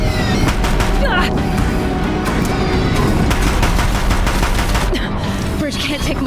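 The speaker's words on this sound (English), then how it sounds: "If the Deathbringers keep firing, this bridge will go." Deathbringer machines in Horizon Zero Dawn fire guns at a bridge, sustained heavy rapid gunfire and impacts, loud and dense throughout, with speech over the barrage.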